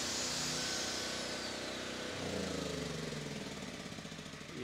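A portable 2-in-1 welding generator roaring under load while an angle grinder runs, a loud continuous mechanical drone with a whining tool tone that shifts partway through, close and steady without speech.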